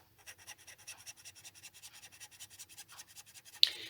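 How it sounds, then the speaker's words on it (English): Hand panel saw cutting the curved contours of a wooden shape, steady rhythmic back-and-forth strokes, close and fairly quiet, ending in a sharper final scrape. "I did have to move on to my panel saw at some point just to finish off the contours of the shape"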